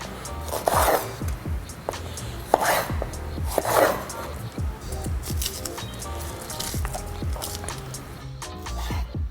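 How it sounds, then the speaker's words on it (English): A knife chops jalapenos on a cutting board for guacamole, giving steady close, crisp chopping strikes in a quick repeating rhythm with a few louder hits, and no talking. "I'm starting to get a little worried that I'm chopping too much jalapeno"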